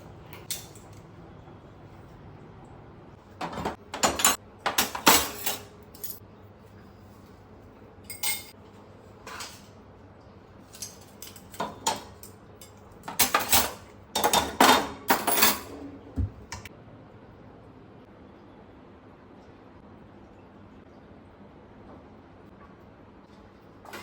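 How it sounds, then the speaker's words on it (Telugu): Dishes and spoons are put away in a home kitchen, with scattered bursts of metallic clinks, clatters and rattles between quieter stretches, loud and close. "స్పూన్స్ అన్నిటినీ వాటి సెక్షన్లో వాటిని పెడుతున్నా."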